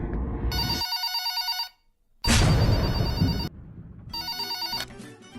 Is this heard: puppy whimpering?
no